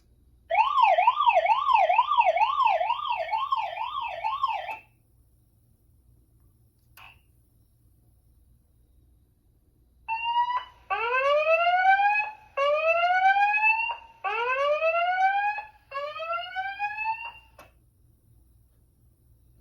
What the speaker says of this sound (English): So here's panic alarm.